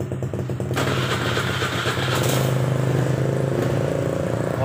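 A Suzuki Nex motorcycle engine firing up from a cold morning start with a rough cranking burst, then settling into a steady, loud, close idle with a low throbbing hum.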